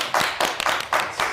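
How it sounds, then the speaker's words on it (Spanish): A short burst of clapping, a few people applauding in steady, separated bursts close to the listener, in a studio interview setting. "Manuel Suárez, hoy en Chelas y Bandas, un aplauso."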